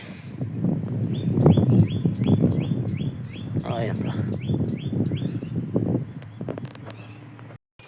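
Domestic pigeon making brief, repeated high chirping calls near the microphone, heard over continuous nearby talking in Punjabi with low background rumble throughout.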